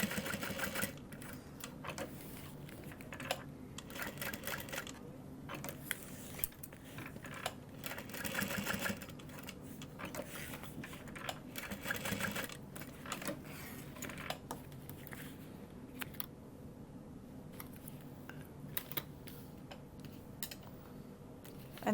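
A sewing machine stitches a Mirabel tote bag, running in a steady, continuous mechanical whir with short rapid ticking bursts and brief pauses, close up and alone throughout.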